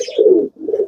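Bhopal tumbler pigeons give two soft, close cooing calls, a longer rolling coo followed by a shorter one after a brief pause, with no other sound around them.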